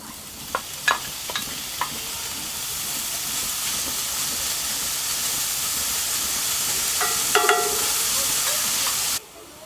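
Bacon sizzles steadily in a pan close by while a barbecue heats up, a continuous frying hiss broken by a few sharp clicks and pops, stopping abruptly at the end.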